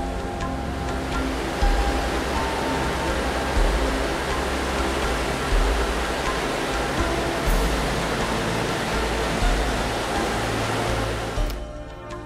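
The White River roars over Shigami Winnegum Falls in Pukaskwa National Park, as heard from a suspension bridge. A loud, continuous wash of rushing whitewater stays unbroken throughout.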